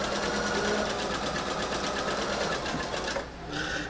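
Sewing machine stitching fabric for a stocking, a steady rapid whirring hum with a brief pause near the end before it resumes.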